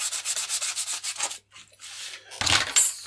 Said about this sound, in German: hier oben auf dem Holm schleife ich vielleicht ein bisschen mehr an